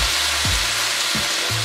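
A whole stick of butter melts in a pan for shrimp scampi, giving a loud, steady sizzle with a few low knocks and clunks from the pan.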